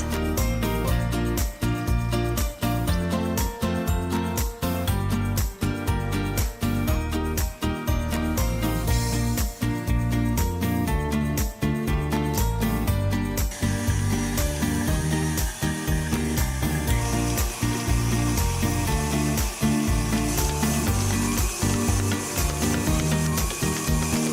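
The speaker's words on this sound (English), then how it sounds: "You want to use the hook attachment that will help you knead this dough and not the whisk attachment." Stand mixer with a dough hook kneading basic white bread dough, a loud continuous motor whir with a rhythmic thumping and rubbing as the dough turns and slaps, steady throughout.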